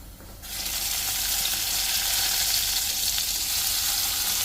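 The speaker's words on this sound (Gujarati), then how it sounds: "કડાઈમાં તેલ ગરમ થઈ ગયું છે તો એની અંદર આપણે નાખી લઈશું હિંગ અને નાખશું લસણ" A sudden burst of sizzling as asafoetida and garlic hit hot oil in a kadai, then a steady, loud frying hiss that continues without pause.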